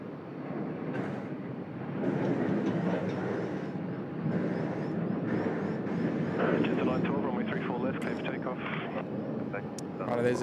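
An airliner's engines roar in a sustained, distant rumble during takeoff at Sydney Airport, heard under steady talking voices.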